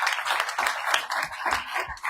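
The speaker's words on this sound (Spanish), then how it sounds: "recibámoslo con un cordial aplauso" Audience at a cultural heritage event in Zacatecas gives a speaker a welcoming round of applause, a brief, fairly close burst of steady clapping.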